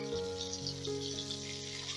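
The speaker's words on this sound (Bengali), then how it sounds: "এরকম উল্টে পাল্টে লাল লাল করে ভেজে নিতে হবে" Potol dhoka, lentil cakes, frying in hot oil in a pan, giving a steady close sizzle with faint tonal hum underneath and no voices.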